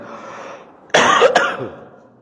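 A single harsh cough burst, a quick double hack close to the mic, then a fading rasp after a quiet lull.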